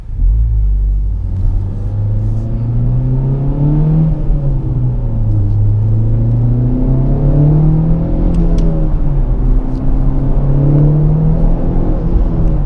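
A 2018 Honda Civic Type R pulls away and accelerates, its engine note climbing and dropping through gear changes as a loud steady drone with heavy low rumble, heard from inside the car without talking.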